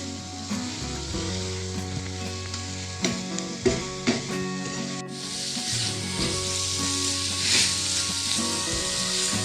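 Egg and onion curry masala frying in ghee, a steady close sizzle with stirring scrapes throughout, with louder spoon clatters in the middle and the sizzle swelling toward the end, no talking.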